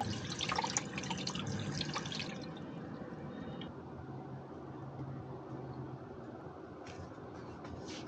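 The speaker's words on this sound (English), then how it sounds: "So I'm gonna wash these shallots off, dry them really well" Running water pours steadily over shallots being rinsed at an outdoor cooking setup in a parking lot, a constant close hiss and trickle with no talk.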